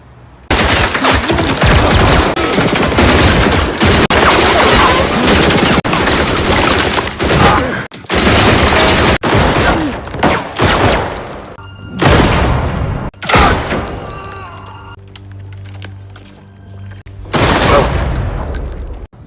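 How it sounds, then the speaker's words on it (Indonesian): Gunfire from a film scene: loud, sustained bursts of rapid shots and booms with brief pauses, dying into scattered blasts and quieter gaps. "Sampainya di depan rumah Emmen, mereka ditembaki oleh anak buahnya si Kurt"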